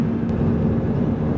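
A steady, even drone of a passenger airplane climbing into rain clouds after leaving a large airport, heard as constant close cabin noise with no breaks.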